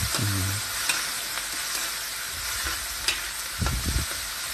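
Onions and tomatoes fry in a pan with a steady close sizzle, while a utensil stirs and scrapes through them in short bursts near the start and again toward the end.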